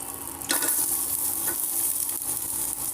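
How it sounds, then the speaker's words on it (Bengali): Onion frying in a little oil in a pan, with chilli already in, for a quick poppy-seed dish; a steady close sizzle jumps louder as the onion goes in, with faint stirring scrapes after. "পেঁয়াজটা ভেজে নেব।"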